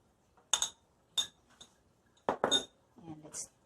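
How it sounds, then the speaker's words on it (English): Shrimp being stirred with Sprite in a pan, with a few sharp metallic clinks and scrapes of a utensil against the pan in short bursts, followed by a faint sizzle. "Stir it again so that the Sprite will mix it all the way."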